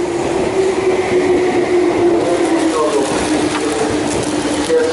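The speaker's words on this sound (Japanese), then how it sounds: "電車が入ってますから風吹きます。" A Meitetsu train rolls into a station with a steady rumble and a sustained whining tone that slowly shifts, mechanical rattling underneath.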